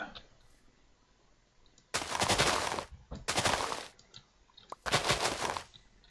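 A tree broken down in Minecraft, three long bursts of rapid repeated hitting, each lasting about a second, loud and close, separated by short pauses.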